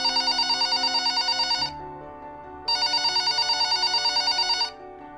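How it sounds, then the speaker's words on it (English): A telephone rings in two long electronic bursts separated by a short pause, loud and close with no voices. "Suddenly the phone rang."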